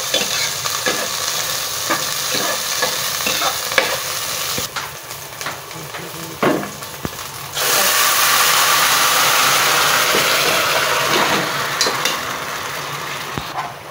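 Garlic and onion sauté in a pan for kare kare, a loud close sizzle with repeated scraping and stirring clatter, swelling into a stronger continuous hiss midway.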